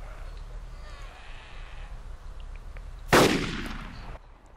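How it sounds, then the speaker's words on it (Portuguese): A single loud burst of gunfire in the game DayZ (Arma 2 mod) cuts in sharply, then rings out and fades over about a second against a low background rumble. "Eu tô ouvindo tiro na cidade"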